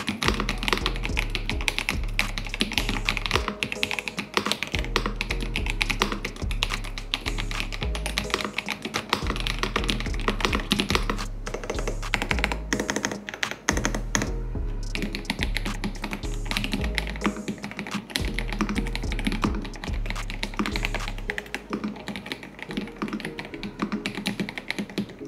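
Steady fast typing on a Tecware Spectre gasket-mount mechanical keyboard with tactile Cocoa Brown or linear Red switches, dense clacking keystrokes close up with brief pauses and no talking.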